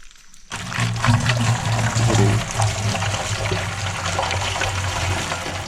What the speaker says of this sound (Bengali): জলটা কিন্তু রানিং জল, দেখুন এই যে পাশ দিয়ে বইছে।